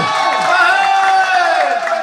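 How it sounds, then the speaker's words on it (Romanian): Guests at a christening party cheer loudly for the godparents, a close, sustained wash of voiced shouting and whooping, with little distinct clapping. "Păi nu s-aude aplauze pentru nașii noștri!"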